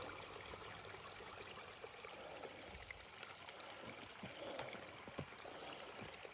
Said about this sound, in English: I can hear all the streams coming through.